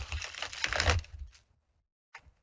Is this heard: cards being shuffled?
yes